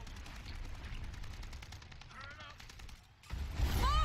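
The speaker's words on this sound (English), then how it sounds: "airstrike. Airstrike!" Rapid gunfire rattles through a video game battle, then a heavy airstrike blast booms in near the end, loud and rumbling.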